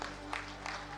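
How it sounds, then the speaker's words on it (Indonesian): Audience at a Labour Party rally in Indonesia clapping in a hall, a moderate, steady patter of applause with brief swells, heard at some distance over a low hum. "Tepuk tangan dulu."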